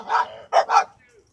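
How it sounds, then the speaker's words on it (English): A dog barks nearby in a short run of three loud barks: one, a brief pause, then two in quick succession, followed by a faint whimper. It sounds like a doggy daycare situation somewhere outside the house. "Oh God, there's some dog running around."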